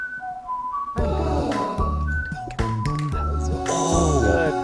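Someone whistles the Chrono Trigger tune clearly and close, a bright, melodic line of steady notes carried over a backing track.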